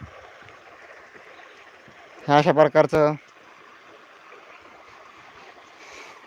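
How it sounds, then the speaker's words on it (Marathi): Steady rushing irrigation water flows on a farm throughout, with a brief burst of a man's speech in the middle. "इथे आपलं पाणी चालू आहे"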